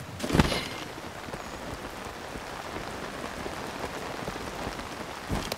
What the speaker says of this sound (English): This rains way too much.